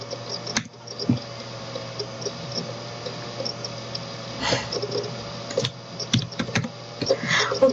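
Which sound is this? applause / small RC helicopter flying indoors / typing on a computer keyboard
typing on a computer keyboard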